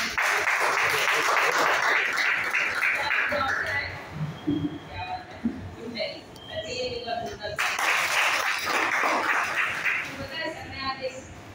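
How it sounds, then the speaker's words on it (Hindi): An audience at a direct selling basic training session applauds loudly in two bursts, a dense clapping wash at the start and again near the end, with quieter murmuring and a voice in between. "मैं चाहूंगी आप लोगों के लिए भी एक बार जोरदार ताली"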